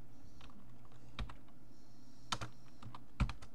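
Typing a search on a computer keyboard: a few sparse, light key clicks at a moderate distance, with scattered single taps and short pauses between them, and no talking.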